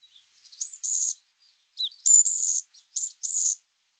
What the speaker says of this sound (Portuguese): Então tem o passarinho ali, tem a situação alimentar e veja o que acontece.